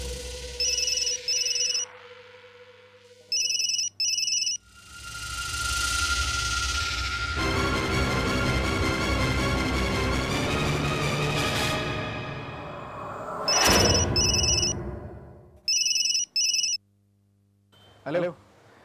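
A telephone rings in repeated double bursts, pausing between rings, with a long swelling musical passage in the middle before the ringing returns.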